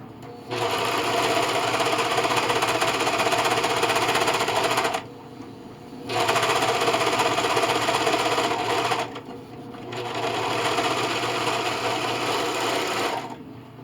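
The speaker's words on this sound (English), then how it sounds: "I'm going to line up the edges here. And serge it down." A serger overlock machine runs along burlap liner edges in three long, loud, steady whirring bursts separated by brief pauses, close by and with no one talking.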